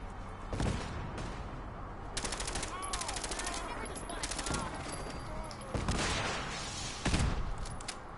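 Rapid automatic gunfire from Fallout 4 rattles in repeated bursts, moderately loud, with single heavier shots in between and a player's voice talking over it at times.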